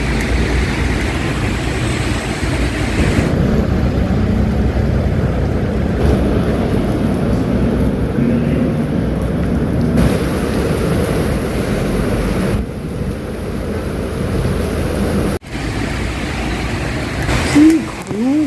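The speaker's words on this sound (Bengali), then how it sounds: "বুঝতে পারছো তো কি বৃষ্টি হচ্ছে" Heavy rain pouring down in Dubai under dark clouds, a loud continuous wash of noise with gusty buffeting and a sharp crack near the end, no clear talk.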